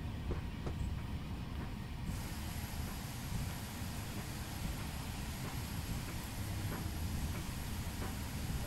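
Steam locomotive from the video game Train Simulator 2018, driven tender first at a gala, with a steady, dense rumble of running gear and faint repeated rail clicks throughout, no voices.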